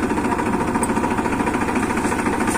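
The engine of a farm sowing machine runs steadily at close range during gram seed sowing, a continuous throbbing, rattling drone that stays loud and even throughout with no one speaking.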